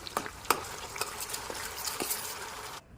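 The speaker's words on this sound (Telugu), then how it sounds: "ఇప్పుడు ఉల్లిపాయ పేస్ట్ బాగా ఫ్రై చేసుకుందాం." Onion paste fries in a pan with mustard seeds, green chilli and curry leaves, giving a soft steady sizzle under repeated clinks and scrapes of a spoon stirring against the pan.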